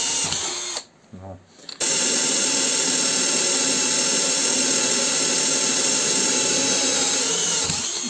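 A TopShak TS-ED1 cordless hammer drill whirs loudly and steadily after a short pause, a continuous high-pitched motor drone with a brief quieter gap near the start.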